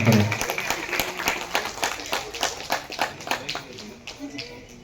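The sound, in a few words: audience applause at a festival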